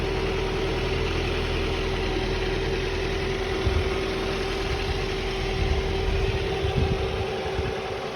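Steady idle of a 2007 Ford Focus with a 1.8 petrol engine, heard up close as a smooth, even low drone with a faint tonal whine, running alone for several seconds without talk.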